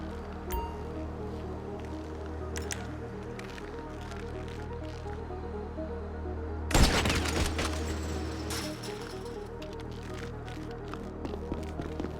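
In Grand Theft Auto, a single sharp sniper rifle shot cracks out loud midway through a quiet, low ambient game soundscape, followed by a brief ringing tail and a few faint clicks.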